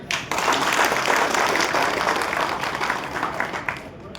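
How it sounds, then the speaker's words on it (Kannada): An audience at an outdoor public gathering breaks into loud, dense applause that holds steady for several seconds, then thins slightly toward the end. "ಅವರಿಗೊಂದು ದೊಡ್ಡ ಚಪ್ಪಾಳೆ"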